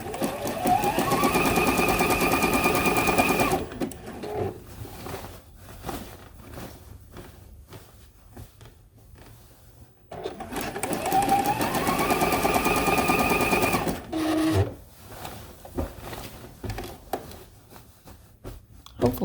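A sewing machine labours through a bulky Christmas tree quilt top. Two separate runs of close, steady motor whirring last a few seconds each, broken by pauses with handling noise and a person talking.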